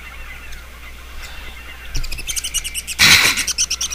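Pet bird chirping close by during a Pikmin 2 play session, faint tweets at first, then a run of sharp repeated chirps ending in a loud burst of calls.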